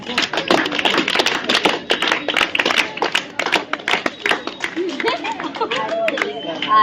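Classroom students clap for a classmate's spelling test score, with a dense burst of close, rapid hand claps that thins out over several seconds and voices talking in the room.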